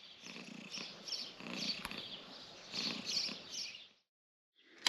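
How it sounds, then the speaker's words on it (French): A small cat at a guest house purrs close up in a steady, soft rumble for about four seconds, then falls silent before a brief noise at the end. "il y a un petit chat à la guest house"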